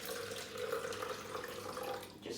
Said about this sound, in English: We're gonna put water inside the container like that.